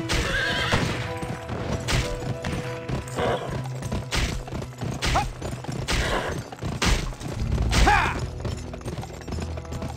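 Horses in the Western video game Gun, with repeated loud whinnies over clip-clopping hooves and thuds, amid busy game sound and music-like tones.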